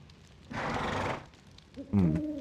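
A horse neighs in Breath of Fire IV, a broad, loud whinny for about half a second followed by a shorter, lower snort-like call near the end.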